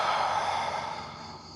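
A long forceful exhale from Tummo breathing in the Wim Hof method, a loud breathy rush of air that fades gradually over about a second and a half, heard alone without talk.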